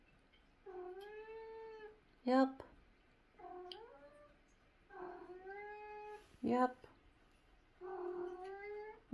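A cat meows repeatedly in long, drawn-out yowls, about four calls spaced a couple of seconds apart, with a person speaking briefly between them.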